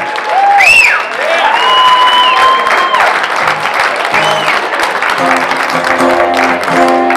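An audience at a country music show gives a hearty round of applause for firefighters in attendance. Loud, sustained clapping mixes with whistles and cheers, and a voice rises above the crowd near the end.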